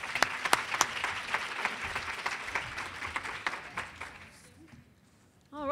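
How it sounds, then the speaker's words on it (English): Audience applauding for Becky Sheets Runkle at a Prince William Chamber of Commerce event, loud dense clapping with some sharp claps that fades out over about five seconds before a brief voice at the end. "let's give a round of applause to Becky Sheets Runkle"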